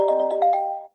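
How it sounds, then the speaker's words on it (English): A phone ringtone sounds in a short, fast pulsing electronic ring with a quick fade, lasting under a second and heard alone. "that was the phone interrupting"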